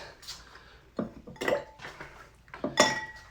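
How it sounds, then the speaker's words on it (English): Ice added to a cocktail mixing glass for a Vieux Carré gives a few sharp clinks and clatters in separate bursts, close and crisp, with no talk. "And now we are going to add our ice."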